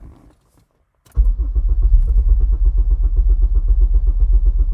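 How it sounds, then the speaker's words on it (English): A Honda K24 engine with drive-by-wire, on a tuning setup, cranks briefly after near silence and catches, settling into a loud, steady, close idle with a deep, even pulse that runs to the end. "Let me go ahead and fire up the engine here,"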